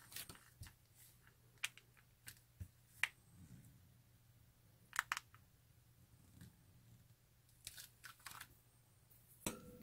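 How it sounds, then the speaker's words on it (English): Scissors snip through a plastic piping bag in a series of sharp, quiet clicks spaced irregularly, with faint crinkling between them, close and otherwise quiet. "Cut this long, bulky tail off with scissors."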